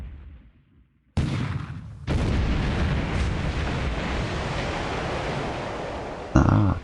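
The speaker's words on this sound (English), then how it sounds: "Benbow is also taking a torpedo." Torpedo hits land on warships in a naval video game: a sudden loud blast, then a heavier rumbling explosion that roars on, with another sharp impact near the end.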